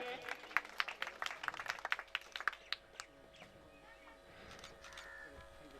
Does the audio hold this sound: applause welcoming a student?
yes